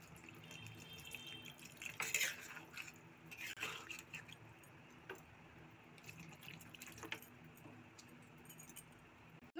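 Water trickles and splashes into a metal cooking pot of aloo dum in short bursts, fairly close, with a faint clink of metal now and then.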